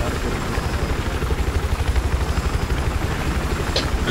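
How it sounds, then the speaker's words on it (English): Helicopter in the video game Battlefield 4, a steady rotor chop with a rapid low thumping pulse that holds throughout, loud and close, with faint game noise layered on top. "That looks like the chopper's actually going, I think, maybe."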